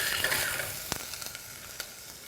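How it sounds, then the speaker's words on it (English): Onions hit a smoking-hot oiled pan on high heat, giving a steady, dense sizzle and crackle throughout with a few brief stirring clicks, heard alone without voices. "It's just about to start smoking, and I'm going to get these onions right in here."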